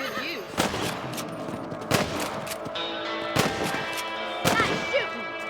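Gunshots fired at rabbits in the video game Red Dead Redemption, four or five sharp spaced shots over a steady background of game ambience.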